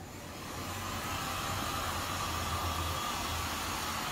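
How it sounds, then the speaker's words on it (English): A heat gun blows hot air over fresh paint on a cradleboard, a steady broadband whoosh with a low hum that swells up within the first half second and then holds constant and fairly close. "Give it once over with your heat gun"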